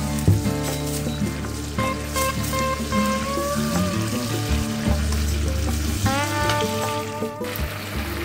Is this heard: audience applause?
no